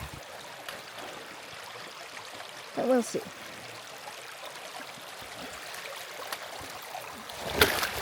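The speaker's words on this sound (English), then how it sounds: "Okay, first actual water crossing." A stream at a water crossing on the Cohos Trail, a continuous rushing trickle with splashy bursts, and a hiker speaking briefly over the flowing water.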